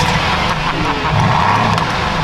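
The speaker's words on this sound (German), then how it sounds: "Ja, wie so ein Diesel halt so klingt." Diesel car engine idling and rumbling steadily at close range, a continuous low drone with no clear speech over it.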